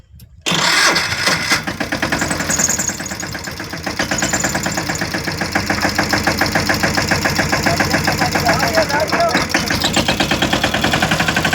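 A vehicle engine cranks and catches abruptly, then settles into a loud, steady idle close by, with a rough, pulsing rhythm and voices chatting briefly over it.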